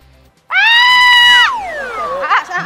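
During a game of golf at a spacious home, a woman lets out a loud, high-pitched scream lasting about a second, then it tails off into a falling wail with other voices behind it.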